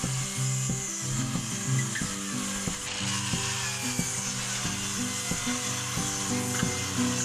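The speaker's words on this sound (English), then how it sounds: "use a circular saw to trim off any loose ends" A power saw cutting wooden tabletop boards, a loud continuous whine under repeated rhythmic rasping as the blade works through the wood, close and steady with no talking.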